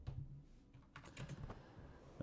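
Rapid clattering keystrokes on a computer keyboard during a strategy game session, close and fairly faint, in uneven bursts with no talking.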